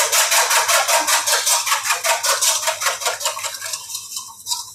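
An egg is whisked briskly in a mixing bowl for banana and carrot muffin batter, giving rapid rhythmic scraping taps, close and loud, that slow and thin out toward the end.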